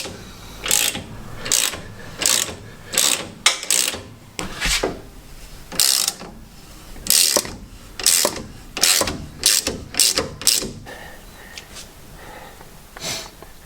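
A TeraFlex ball joint is pressed into the steering knuckle of a 2016 Jeep JK, giving a steady series of loud, evenly spaced ratcheting clicks close by, about one each second, with no talk.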